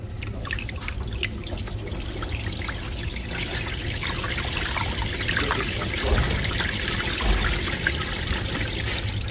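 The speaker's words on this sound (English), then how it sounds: "So here is our rainmaking." Simulated rain poured onto a model parking lot and wetland in a public works demonstration makes a steady, close trickle and patter of falling water that runs unbroken for about nine seconds with no talk.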